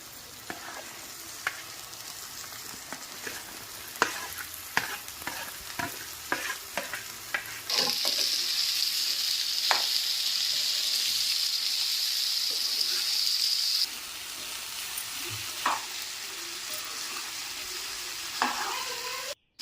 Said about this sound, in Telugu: మళ్ళీ బెండకాయ కూడా ఫ్రై అయ్యేవాలి కదా